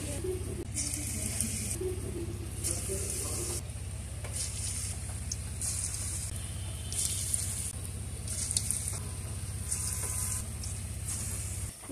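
Raw potato pakoras frying in hot soybean oil, a steady, close sizzle and crackle with occasional stirring scrapes, no talking.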